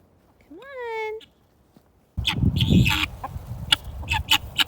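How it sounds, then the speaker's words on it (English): Backyard chickens cluck and chatter after corn is thrown down for them, a rising rooster-like call first, then close, busy clucks and squawks in irregular bursts over a low background. "The chickens were being extra chatty when I threw them down some corn, and I just really like listening to them"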